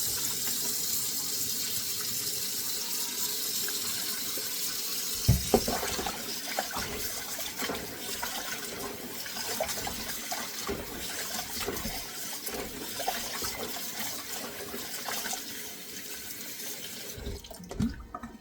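Tap water runs steadily into a sink while chicken breast is rinsed with vinegar and handled under it, with splashes and a few clunks near the end.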